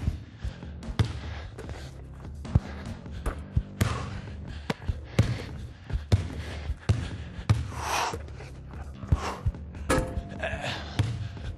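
A basketball is shot and bounces repeatedly during a training session, with irregular close thuds and slaps on a court and brief gasps between them.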